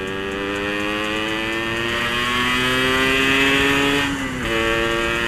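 A Yamaha RX King two-stroke motorcycle fitted with an Altech C20 exhaust revs close up with a loud, buzzy, steadily climbing engine note that briefly dips near the end and then picks back up, with no talk.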